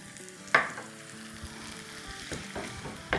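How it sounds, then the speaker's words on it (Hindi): Kebab pieces frying in spice masala in a pan, a steady close sizzle punctuated by a few sharp louder bursts as they are stirred and turned. "बड़े अच्छे से ये क्या कहते हैं भुन गए हैं मसाले में"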